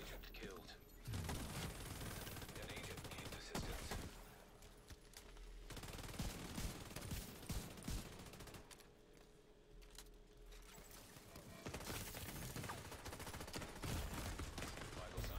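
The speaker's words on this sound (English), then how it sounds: "can you stop shooting me in the fucking back, dude?" Sustained automatic gunfire from a teammate in The Division 2, long rattling bursts broken by short pauses, quiet overall with a voice mixed in.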